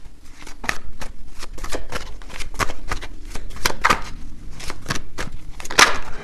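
Tarot cards are shuffled close by in quick, repeated riffling snaps that keep up a brisk, uneven rhythm with no talking.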